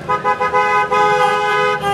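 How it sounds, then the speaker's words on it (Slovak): Car horns honking in a steady sustained blare during a May Day vehicle parade, loud and continuous, with no talk over it. "Klaxony ich trúbia"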